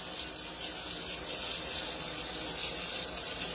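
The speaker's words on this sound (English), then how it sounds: "I very gingerly turn the cold water on in the sink." Cold water runs from a sink faucet while making lard soap at home, a steady close hiss and splash that continues unbroken with no speech.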